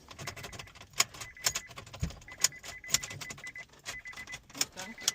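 Car keys jangle faintly and repeatedly as someone works a stiff ignition switch in a car, a series of small metallic clinks and rattles at irregular intervals, quiet and close.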